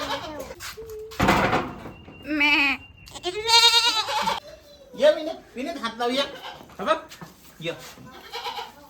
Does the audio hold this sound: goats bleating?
yes